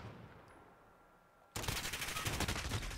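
Rapid automatic gunfire in Call of Duty Modern Warfare multiplayer bursts in after a quiet stretch of game ambience, a dense loud stream of shots that runs on without letup.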